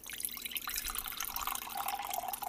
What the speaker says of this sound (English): I'm going to use my cup. Pour the coffee.